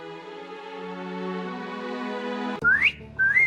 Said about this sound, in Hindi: बाहर निकलकर मीनू ने सीटी बजाई।